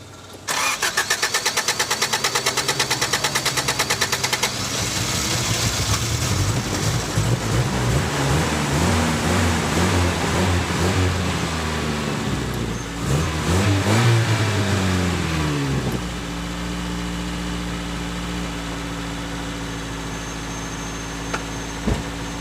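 A Toyota AE86 engine that has just had a Seafoam treatment cranks with rapid starter pulses, fires and revs, then drops into a steady running idle, loud and close with no talking.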